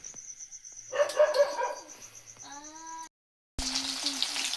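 Chopped onion hits hot oil in a pan, and after a brief hush a loud, steady sizzle of frying onion rises and holds to the end.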